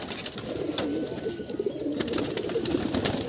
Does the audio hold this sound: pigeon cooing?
yes